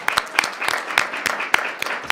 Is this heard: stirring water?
no